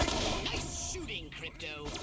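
Video game gunfire, a rapid burst of loud shots clustered at the start, then scattered reports fading, with a voice talking over part of it.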